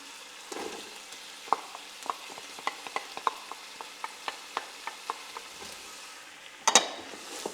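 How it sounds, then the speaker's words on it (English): Onion frying in a pan for spaghetti bolognese, with a soft steady sizzle and a regular series of light taps and crackles, then a louder clatter near the end, close and without speech. "I'll let this fry up for a minute or two."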